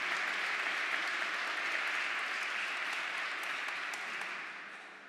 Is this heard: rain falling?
no